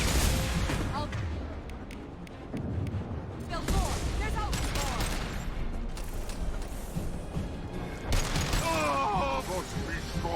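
Rapid bursts of gunfire from Mass Effect 2 crackle in dense volleys under a shouted voice, with heavier booms mixed in and continuous battle clatter throughout.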